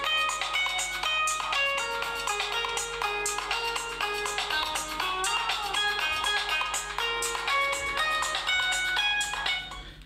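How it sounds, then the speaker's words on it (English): An Acer Liquid Z3 phone plays a bright, melodic electronic ringtone through its small speaker, a steady run of tinkling chime-like notes repeating for several seconds, close and clear. "let's just play a phone ringtone and try and give you an idea of the sound"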